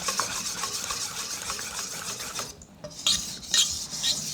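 Flour being stirred into bread roll dough in a bowl, a steady scraping, rasping stir close up with a few sharper strokes near the end, no talking.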